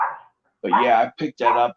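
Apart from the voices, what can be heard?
dog barking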